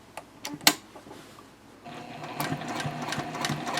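A sewing machine stitches a bowler bag, with a few sharp clicks and thumps as the fabric is pivoted, then a steady, faint mechanical whir of stitching in the second half.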